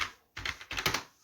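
C++ code being typed on a computer keyboard, a quick run of crisp key clicks arriving in two close bursts after a short pause, fairly quiet, with no talking.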